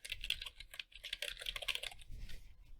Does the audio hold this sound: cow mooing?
no